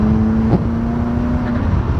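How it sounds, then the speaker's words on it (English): A turbocharged car running a catless J-pipe exhaust holds a steady droning engine note with a brief burst of turbo flutter near the middle, loud and close, with no voices. "Oh my gosh, turbo flutter for days, boys."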